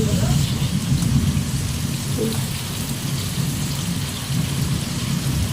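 Heavy rain pours down steadily during a thunderstorm, with a low rumble of thunder underneath. The dense, unbroken wash is close and fairly loud.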